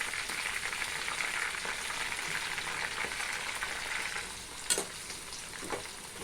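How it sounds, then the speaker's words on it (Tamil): Kesavardhini herbs fry and bubble in hot herbal hair oil, a steady dense sizzle with crackling pops running throughout. "கேசவர்த்தினியை போட்டு அது கொதிக்குது"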